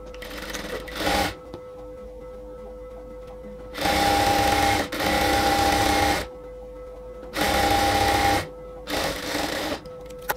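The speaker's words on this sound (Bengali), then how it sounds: "সো আমরা হচ্ছে একটা সেলাই দেওয়ার পর এটাকে ডাবল সেলাই করে নিচ্ছি, আবার একদম উপর থেকে নিচ পর্যন্ত।" A sewing machine runs a double line of stitching down the side seam of a nightie, from top to bottom, in three loud, steady bursts separated by brief quiet pauses.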